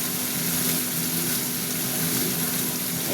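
Onion, tomato and spice paste frying in a pan for an egg curry, giving a steady, dense, close sizzle that holds unchanged throughout, with no voice or stirring strokes standing out.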